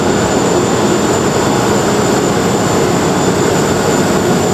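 LNG carrier main engine running, heard from the lower part of the engine room during a scavenge inspection: a loud, steady broadband roar with constant rumble and hiss, unbroken throughout and with no voices.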